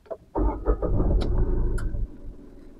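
A Tata Nexon SUV's engine cranks briefly and catches, settling into a low, steady idle rumble up close with faint ticking on top before it drops off.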